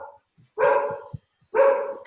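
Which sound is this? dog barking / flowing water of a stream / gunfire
dog barking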